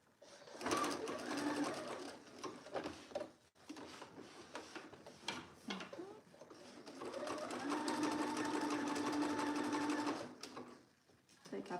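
A sewing machine stitches a seam in viscose jersey in two runs, first with a reverse at the start and then a longer steady burst, while a person talks between the runs.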